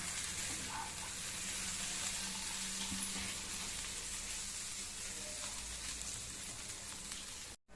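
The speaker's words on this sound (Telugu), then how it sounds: "మిరియాల చారు చాలా బాగా మరుగుతుంది" Pepper rasam (miryala chaaru) bubbles on the stove beside a pan of raw banana fry, a steady, busy sizzling and bubbling that holds level throughout before a brief dropout just before the end.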